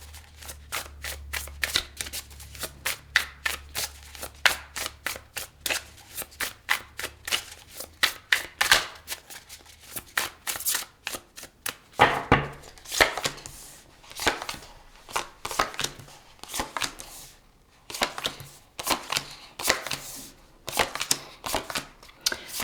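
Tarot cards being shuffled by hand close up, a long run of quick crisp riffles and taps in an uneven rhythm, with a faint low hum under the first half.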